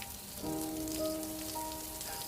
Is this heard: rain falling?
yes